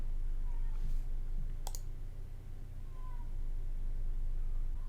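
A single sharp mouse click on a restart button, heard once over a low, steady room hum.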